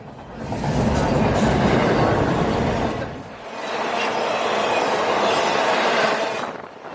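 Train 229 passes at speed heading south toward Chattanooga, a loud close rumble of rolling cars with a short dip midway before the roar continues.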